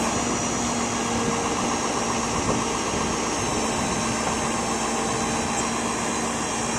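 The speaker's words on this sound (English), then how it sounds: "We're spooling the cable out right now." A Stellar 7621 crane on a Knapheide crane body spools its winch cable out at a slow creep, a steady droning hydraulic and engine hum that holds level and alone for several seconds.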